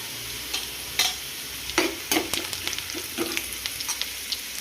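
Fried onion sizzles gently in a pan as turmeric goes in for beetroot fry, while a spatula scrapes and stirs in repeated close strokes over the low, continuous frying hiss, with no voices.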